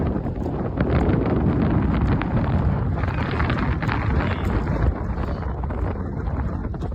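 Strong wind at Shivrajpur beach near Dwarka buffets the microphone from an island spot, making a loud continuous low roar and rumble throughout with no speech.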